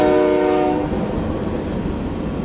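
A nearby passing train trails off the end of a loud horn blast into a steady, heavy rolling rumble that continues without any talk.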